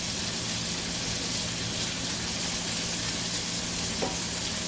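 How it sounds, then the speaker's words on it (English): Shrimp fry in a pan, giving a steady, dense sizzle that holds evenly throughout, fairly loud and close, with one faint tap near the end. "so we got our shrimp cooking"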